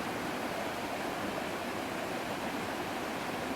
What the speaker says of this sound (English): that's about a 25-foot double slide waterfall also, 200 feet upstream